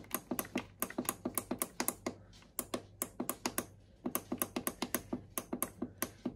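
Rapid plastic clicks from the delay timer button on a Zanussi or Beko appliance, pressed over and over in quick bursts with short pauses between runs, close and crisp with no talking.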